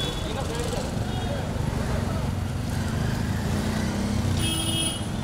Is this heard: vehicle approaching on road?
yes